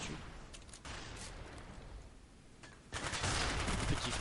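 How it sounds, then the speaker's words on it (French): Automatic fire from an MP5K submachine gun in Call of Duty: Black Ops gameplay on Xbox, heard as fairly faint continuous bursts that swell louder in the final second or so. "j'ai tiré 30 balles, il voulait pas mourir"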